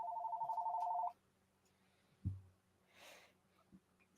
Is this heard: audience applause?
no